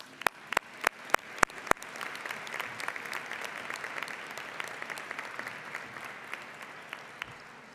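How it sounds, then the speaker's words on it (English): An audience at a birthday luncheon breaks into sustained applause after a few sharp, close claps, with the clapping holding steady at moderate loudness throughout. "So give yourselves applause."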